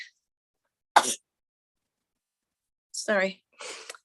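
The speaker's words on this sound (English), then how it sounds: "I got a sneeze coming on." A sharp, breathy burst like a sneeze, followed a couple of seconds later by short voiced sounds and another huff.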